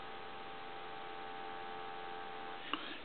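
A steady telephone dial tone hums from the handset of a Western Electric 191G three-slot payphone, faint and continuous, ending with a small click.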